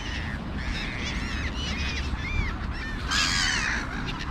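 Several crows caw from a tree outdoors in a series of harsh, repeated calls over steady background noise, with a louder burst of calls near the end.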